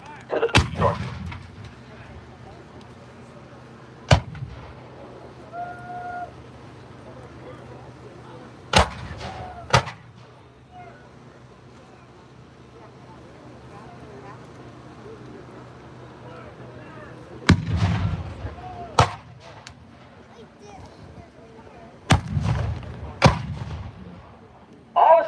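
Artillery cannon fire at a Gettysburg battle reenactment, heard as sharp, loud booms spaced irregularly over an outdoor crowd murmur, a few arriving in quick pairs, while a narrator talks between them.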